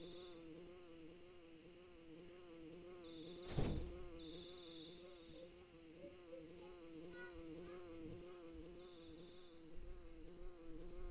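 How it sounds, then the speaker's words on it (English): A steady, faint, warbling buzz like a bee flying around hums throughout, wavering in pitch, with one brief thump partway through and no talk. "do you hear a buzzing that sounds like a bee flying around?"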